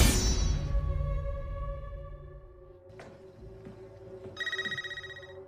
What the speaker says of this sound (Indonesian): Malam itu Tara menerima telepon dari nomor tak dikenal.